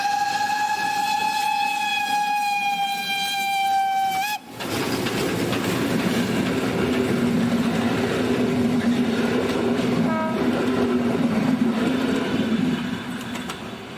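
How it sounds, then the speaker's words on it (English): The whistle of a Pt47-class steam locomotive sounds in winter near Wolsztyn, then the train roars past close by with heavy rumbling and rhythmic clacking of cars, loud and sustained. "Pt47-65 steamed past, heading toward Poznań with its train."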